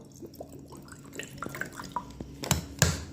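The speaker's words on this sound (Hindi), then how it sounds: "तीसरे में जो है आरओ का पानी डाल रहा हूं" RO-filtered water poured into a glass: soft, close trickling and dripping with a few light splashes and clinks that grow louder toward the end, with no talking.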